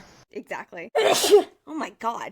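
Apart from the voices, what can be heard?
sneeze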